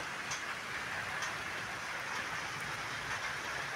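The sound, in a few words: rain falling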